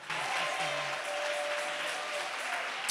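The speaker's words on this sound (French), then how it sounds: "Acclame bien fort le Seigneur" A church congregation applauding together to acclaim the Lord, a steady, dense wash of clapping from many hands that holds at an even level throughout, with faint voices mixed in.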